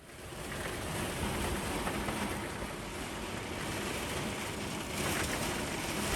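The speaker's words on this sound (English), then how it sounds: "Hear the rain thundering on the van." Rain driven by strong wind pounds on a parked camper van, a loud, constant broadband roar with gusty swells and low rumbling buffeting, and no voices over it.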